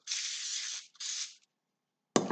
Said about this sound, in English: I'm going to spray this all on my hands